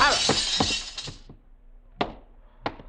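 A glass goldfish bowl smashes in a radio drama effect, with a loud crash of breaking glass followed by scattered tinkling shards and two later sharp clinks as pieces settle.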